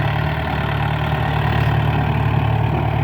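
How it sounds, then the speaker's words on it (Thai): A Yanmar YM357A farm tractor with a water-cooled, turbocharged direct-injection diesel engine idling close by, a loud, steady low rumble with an even, smooth hum and no talking. "เสียงนิ่มขนาด สำหรับเครื่องยนต์"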